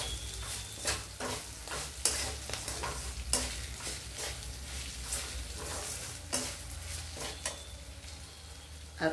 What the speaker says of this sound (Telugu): కొద్దిగా ఆయిల్ వేసుకుందామండి. చాలండి. ఇప్పుడు ఈ ముక్కలు వేగించుకుందామండి.